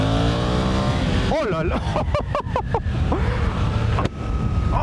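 Suzuki GSX-8S motorcycle engine revving and pulling hard, rising pitch sweeps through several gear shifts, loud and close, with a rider's excited voice over it.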